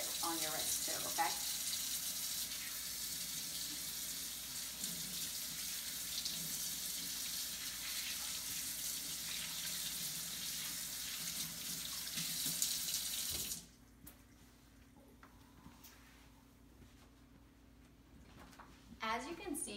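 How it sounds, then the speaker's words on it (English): A tap runs steadily into a kitchen sink while hands are washed beneath the stream, a loud close splashing rush lasting about thirteen seconds before it shuts off, followed by quiet room sound. "It's really important to wash your hands for at least 20 seconds first before any meal preparation."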